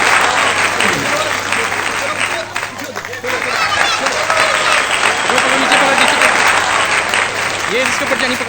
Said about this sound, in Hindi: भरपूर तालियों के साथ चौधरी नसीर सूबा साहब आप सबकी भरपूर तालियों में तशरीफ ला रहे हैं।